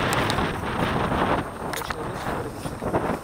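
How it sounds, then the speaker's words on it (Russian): Strong wind buffets the microphone in a continuous rough roar, loud and close, with brief rustling bursts and someone speaking underneath. "Сейчас сильный ветер, я не знаю, меня слышно, не слышно."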